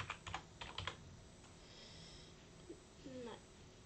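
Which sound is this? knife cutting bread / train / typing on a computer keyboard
typing on a computer keyboard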